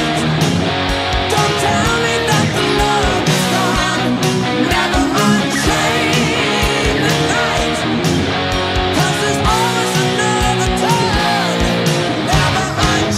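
Distorted electric guitar playing the second chorus of a song, a loud continuous driving power-chord passage with steady rhythmic attacks and no talk.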